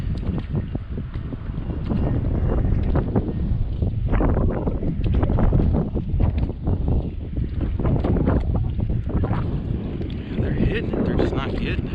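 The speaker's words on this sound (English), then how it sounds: "This wind right here likes to swirl around this point." Wind buffets a microphone on a fishing boat off a lake point, a steady rumbling gust that swirls and surges throughout, with a voice talking over it at times.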